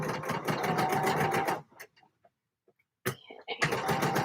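Sewing machine stitching trousers, a fast steady needle rattle running for over a second, pausing to near silence, then starting again in a short burst and a longer run, close and clear.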